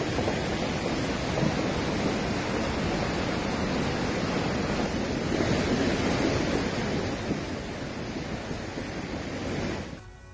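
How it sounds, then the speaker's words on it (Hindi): Floodwater surges through flooded areas of France with a current strong enough to trap a car, a continuous loud, broadband roar of rushing water with no voices, dropping off abruptly at the end. "कई इलाकों में भरा बाढ़ का पानी।"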